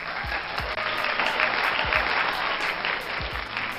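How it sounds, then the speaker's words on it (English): A studio audience at a radio show gives a sustained round of applause, dense and even throughout, with a few low thumps underneath. "Let's give a round of applause."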